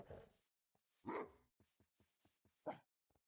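Dogs barking in the video game Minecraft, a few short separate barks and yips with gaps between them, fairly close and clear with no talk over them.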